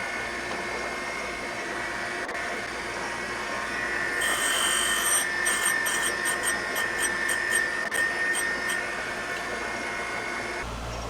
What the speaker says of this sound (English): deburr this edge because you will leave a sharp edge there after grinding the cap